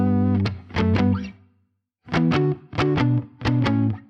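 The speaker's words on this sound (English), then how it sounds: "The guitars for the verse are playing very muted and are following all the exact same" Heavily muted electric guitars play the same tightly accented part through different amps, with short distorted chugs in two rhythmic bursts separated by a brief gap, loud and without voices.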